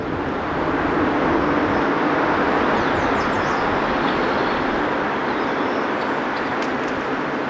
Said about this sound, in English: You can hear the roar of the Edens Expressway behind me in the background